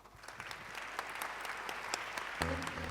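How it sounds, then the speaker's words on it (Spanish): An audience applauding to welcome a music ensemble onstage at a 70th anniversary ceremony, dense steady clapping from a crowd, with faint instrument tones entering near the end. "Los escuchamos y los recibimos con un aplauso."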